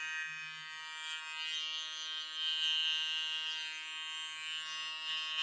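Barber's electric shaver running steadily close up, skimming over short hair during a skin fade cut, a continuous high buzzing hum with slight variations in pitch as it moves, no voices.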